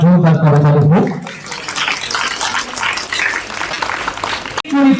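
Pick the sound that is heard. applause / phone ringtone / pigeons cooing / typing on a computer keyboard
applause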